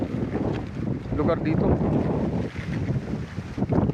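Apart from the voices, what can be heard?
strong wind outdoors on a hillside farm by the sea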